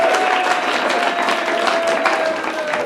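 A live audience at a New Year's Eve show claps and cheers in a steady, loud burst of applause, with crowd voices mixed in throughout.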